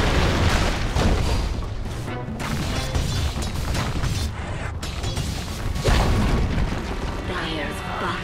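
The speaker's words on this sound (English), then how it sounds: "Dire's bottom tower has fallen." Tower destruction in Dota 2: a dense run of booming crashes and rumbling impacts over about eight seconds, with a game announcer's voice speaking over the blasts.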